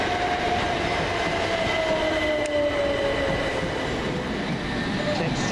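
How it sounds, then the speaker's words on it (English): Govia Thameslink class 377 unit 377501 pulls away on the Brighton to Bedford service at Farringdon, with a sustained motor whine gradually falling in pitch over a constant heavy rolling rumble. "377501 will lead away the 1729 Govia Thameslink service from Brighton to Bedford."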